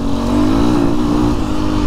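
The engine of a BHR 300 R Enduro motocross bike runs loud and close, a steady throaty drone that swells slightly as it revs, with no voices.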